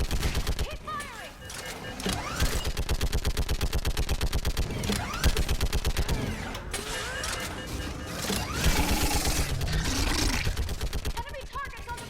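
Sustained rapid gunfire rattles through a video game battle set during the fall of Thessia, with dense automatic bursts and scattered shots continuing throughout, alongside game sound effects and occasional voices.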